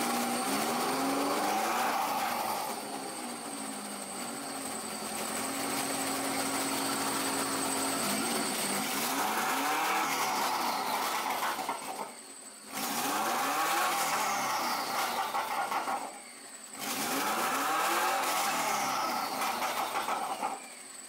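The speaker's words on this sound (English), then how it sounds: "it spooled and it was popping too" Turbocharged Subaru EJ22 engine revving, with rising and falling turbo spool whines repeated several times, brief gaps between pulls, loud and close with a steady engine drone underneath.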